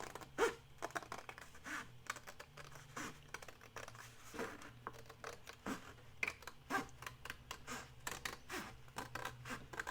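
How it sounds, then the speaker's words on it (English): Scissors cut straight across material for a multi-pocket expandable pouch, giving a run of quiet, closely spaced snips and crinkles without any talk. "And then we're just going to cut straight across."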